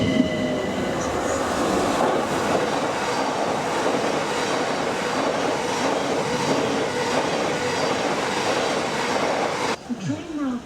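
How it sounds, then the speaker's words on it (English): A Southern train rumbles steadily through a South London railway station with a constant roar of wheels and a faint squeal near the end. "The train now approaching platform 1 is the 11:08 Southern service to London Bridge."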